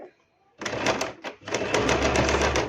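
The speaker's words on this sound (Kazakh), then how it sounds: "Осылай соңына дейін тігіп шығамыз." A sewing machine stitches the seam of a flared skirt, starting with a quick burst after a short quiet pause, then running steadily with a rapid mechanical chatter and low motor hum, close and fairly loud.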